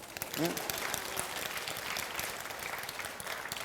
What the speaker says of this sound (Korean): 장로님처럼 좀 박수 좀 쳐주세요.